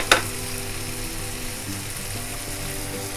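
Ginger garlic paste sautéing in hot oil in a pan, a steady close-up sizzle with faint scraping and stirring clicks and a couple of sharper knocks.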